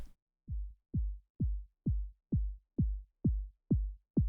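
Higher-tuned electronic kick drum, pitch pushed up and filtered, thumping alone in a steady even pulse of about nine hits, each a sharp attack that drops quickly into a short low boom.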